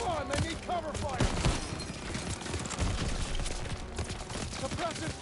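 Dense bursts of rifle and machine-gun fire rattle continuously in a World War II firefight in Call of Duty WW2, layered with shouted voices over the shooting.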